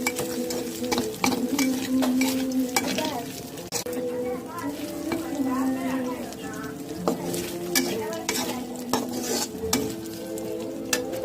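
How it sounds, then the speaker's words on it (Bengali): Spices frying in hot oil in a pan, with a steady sizzle under repeated scraping and stirring clinks of a utensil against the metal pan. "পরে সব রকম মশলা দিয়ে এখন করে আমি ভাজবো।"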